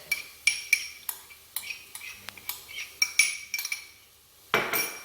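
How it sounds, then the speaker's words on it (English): A utensil clinks and scrapes against a pan while grated ginger and crushed garlic are stirred in over low heat: a steady run of light metallic taps, close by, with no voices. "add the grated ginger and the crushed garlic"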